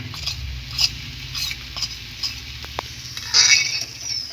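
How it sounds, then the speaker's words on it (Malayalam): Chopped jaggery going into a pan of banana, stirred with a spoon: close scraping and light sizzling with a few sharper taps, no voices. "അതിലോട്ട് നമ്മൾ അരിഞ്ഞു വെച്ച ശർക്കര ഇട്ട് കൊടുക്കുന്നുണ്ട്"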